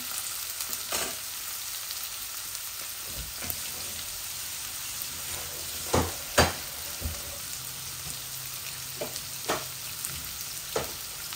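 Spice paste sizzles steadily in a pan with cherry tomatoes just added, a constant crackling hiss broken by sharp pops and occasional stirring clicks, close and moderately quiet with no talk.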